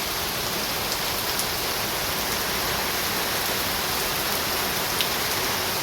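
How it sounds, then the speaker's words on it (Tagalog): Steady heavy rain hisses down on surfaces during flooding, dense and even, with occasional drips standing out and no one speaking. "Sobrang lakas ng ulan, no. Baha na."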